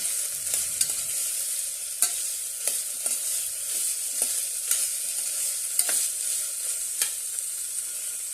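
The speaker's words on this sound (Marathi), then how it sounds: "आता आपण यामध्ये मूग घालूया आणि परतून घेऊया" Moong beans sautéed in a pan for moong pulao: a continuous soft sizzle broken by sharp, irregular scrapes and clicks of stirring, close and alone with no voices.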